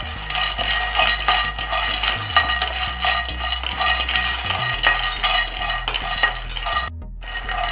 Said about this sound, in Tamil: இப்போ பாதாம் பருப்பை வறுத்துக்கலாம்.